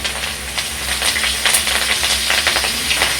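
Chopped garlic and curry leaves frying in hot oil, a steady loud sizzling hiss with bursts of crackle and spatter, close up and without any voice.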